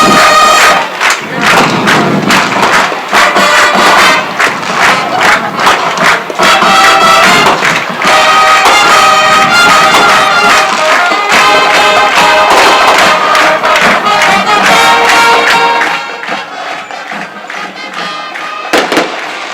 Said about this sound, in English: Awesome fireworks there.